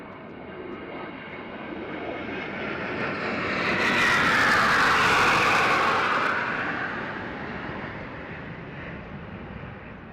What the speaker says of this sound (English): you'll see 3 Su-30 aircrafts approaching the quarter deck